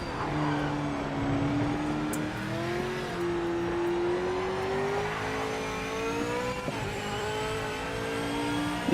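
GT3 race car engines in the video game Project Motor Racing drone and rise through the gears, a close, sustained rev that climbs and dips with shifts, with other cars audible behind.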